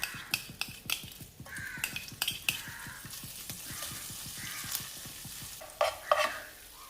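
Butter sizzles steadily in a hot pan, with a fast, regular ticking of stirring and scraping throughout and a few louder crackles near the end; no one speaks.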